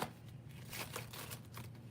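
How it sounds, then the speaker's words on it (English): Tarot cards being shuffled in quick riffling bursts, a crisp papery flutter repeating several times at close range over a faint low hum. "so let's get a good shuffle now."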